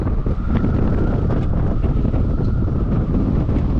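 Strong wind buffets the microphone at Souris Swing Bridge beside the water, a loud continuous gusty rumble with no voices.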